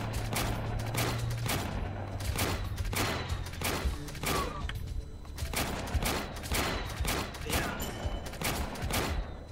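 Turret gunfire in the strategy game Warpips rattles out as rapid, repeated bursts of shots over a dense battle background, steady and loud throughout the stretch.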